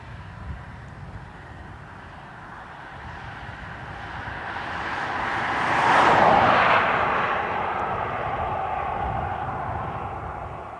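A Delta jet arriving from Detroit lands at Dublin Airport, its engine roar rising from a steady distant rumble to a loud close pass near the middle, then easing into a sustained whooshing drone.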